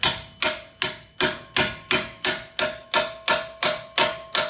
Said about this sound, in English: We'll hammer these guys in